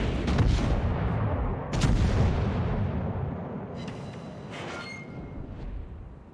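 Naval guns firing in World of Warships, several heavy booming salvos with long rumbling tails, two big blasts early and lighter bursts later, loud and without talk.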